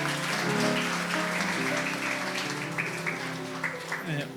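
Audience applause fills a community welfare center's anniversary book concert, steady clapping from a crowd sustained for several seconds with some voices mixed in.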